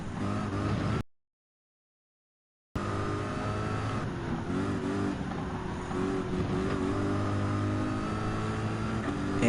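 A Group 3 race car engine in Gran Turismo 7 drones loud and steady, with a short dropout early on and then a continuous roar that shifts pitch with the revs. No one speaks.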